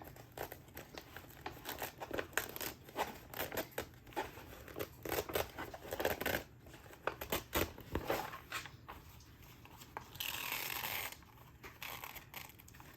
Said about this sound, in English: So we're just peeling it apart from the Teflon sheet.